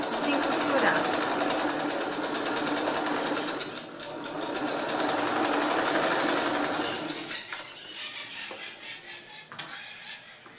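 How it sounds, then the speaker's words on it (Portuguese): A sewing machine runs fast and continuous, stitching a zigzag seam on a fabric bag, with a steady rattling whir that slows and breaks into short bursts near the end while someone talks over it. "Aqui, eu vou passar rapidinho aqui um zigue-zague, pra não correr o risco de ficar nada sem costurar"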